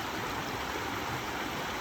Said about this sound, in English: You can hear the water and it's soothing.